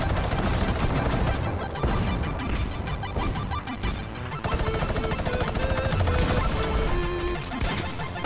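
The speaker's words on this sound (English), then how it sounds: "Oh, they have a minigun!" A minigun firing in Fortnite, with a loud, dense stream of rapid shots and crashing impacts that continues throughout.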